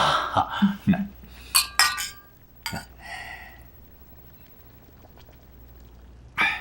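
Glasses clink together several times in quick, bright taps, with a scatter of faint table sounds before things fall quiet.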